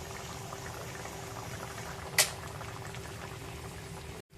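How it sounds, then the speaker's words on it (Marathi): A jitada fish curry bubbles at a rolling boil on high flame, a dense, continuous close bubbling with one sharp brief clink midway before it cuts off. "गॅस हाय फ्लेमवर केला आहे आणि गट गट एक उकाळा घेऊया"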